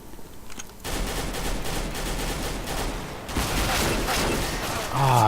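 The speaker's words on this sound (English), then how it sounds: "there's a guy shooting behind me as well" Rapid automatic gunfire in Counter-Strike: Global Offensive, dense rattling bursts that swell louder partway through, with a voice talking near the end.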